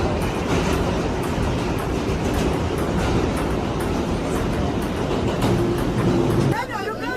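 Ride aboard a subway train, a steady loud broadband rumble and rattle of the moving car throughout, with voices faintly under it, ending in a quieter stretch with chatter.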